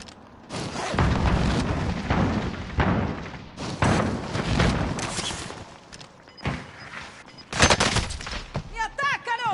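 Gunfire in a PS4 video game: loud, dense bursts of automatic fire and heavy thuds that come in waves and break off with short pauses, with a player's voice talking in between.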